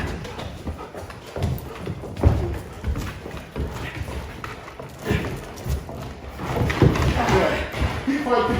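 A boot kicks a dog-training decoy in a series of dull thuds and scuffs during decoy work, close by and uneven, with rustling movement between impacts.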